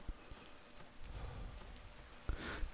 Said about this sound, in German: Und jetzt bemerke ich erst, dass es regnet.